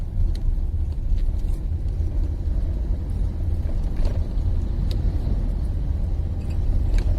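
A large truck rolls past on a dark road in Samar at night, a steady, loud low rumble of engine and tyres heard from inside a moving vehicle, with no voices.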